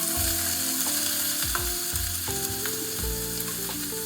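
Green chillies frying in hot oil with mustard seeds and asafoetida for a carrot-chilli sambharo give a steady, crackling sizzle throughout, with occasional clicks and scrapes from stirring in the pan.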